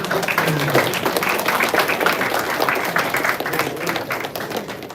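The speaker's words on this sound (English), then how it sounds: "Let's give a round of applause to Matcha." Audience applause follows the announcement of a winner at a student computer engineering society event, with steady dense clapping throughout, a murmur of voices underneath and a slight fade near the end.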